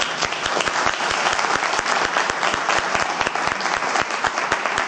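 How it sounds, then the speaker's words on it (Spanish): Audience applause for a speaker at a parapsychology congress on neurospirituality, dense steady clapping from a large crowd throughout, close and full. "Le quiero brindar un gran aplauso de todo el público,"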